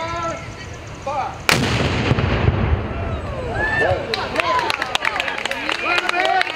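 A Napoleonic-style cannon fires at a folk festival demonstration with one sharp, loud blast that rolls out and echoes. Outdoor crowd noise and scattered voices continue underneath before and after the shot.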